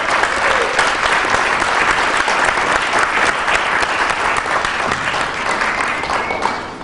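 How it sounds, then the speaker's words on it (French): Guests at a 50th wedding anniversary celebration in a hotel in Sherbrooke clap together, dense continuous applause at full strength from start to finish, easing off slightly at the very end. "Et on va les applaudir."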